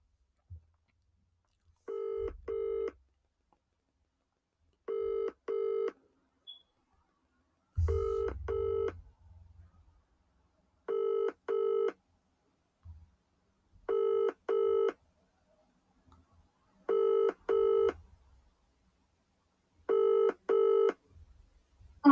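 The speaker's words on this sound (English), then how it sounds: "let's call Lee and see how this goes" Telephone dialing tones followed by a repeated double-burst ringback as an outgoing call rings, about seven evenly spaced pairs of rings, clear and steady with no talking over them.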